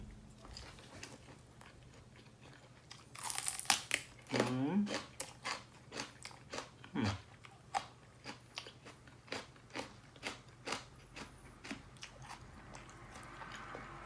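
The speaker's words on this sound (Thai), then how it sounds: "หมากพักไส้นะพี่น้อง กินกับลาบนะครับลาบกับขมอยู่แล้วนะครับ" Someone chews laab with bitter vegetables up close, producing repeated crisp crunches and bites in a steady rhythm, with a brief voice early on.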